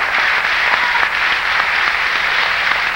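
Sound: audience applause on a TV show

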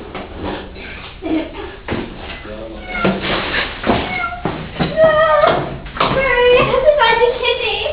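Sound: cat meowing

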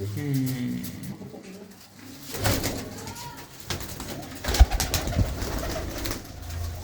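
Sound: pigeons cooing

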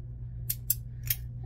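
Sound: scissors cutting a false eyelash strip

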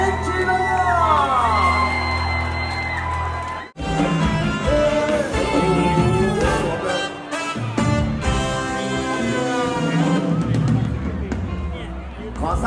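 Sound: crowd cheering for a performer

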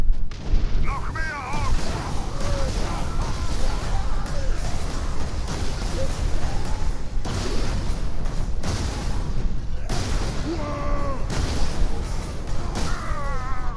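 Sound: plasma cannon blasts in a video game

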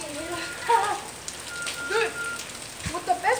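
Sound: rain falling

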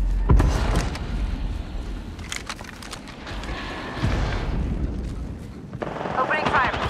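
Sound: gunfire in the video game Apex Legends

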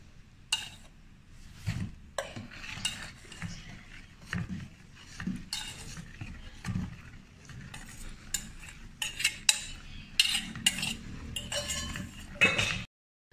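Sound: stirring semolina (rava) flour into steam cake batter

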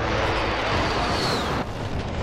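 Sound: airstrike explosions in Call of Duty: Modern Warfare video game

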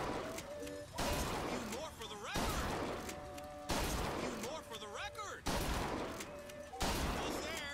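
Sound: gunfire shooting in video game Bioshock Infinite

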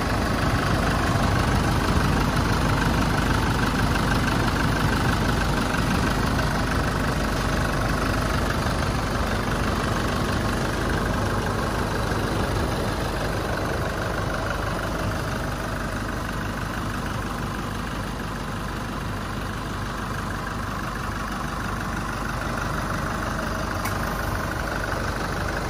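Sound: diesel pickup truck engine idling

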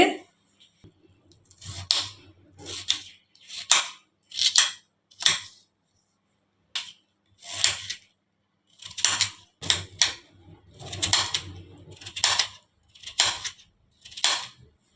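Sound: knife cutting peeled potato into small pieces

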